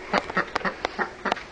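Duck quacking inside a poultry house, a rapid run of loud, close, nasal quacks in an uneven rhythm with no talking.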